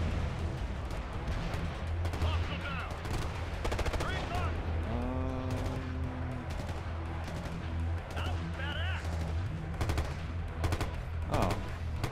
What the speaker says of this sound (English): I can seriously hear every sniper shot that someone fires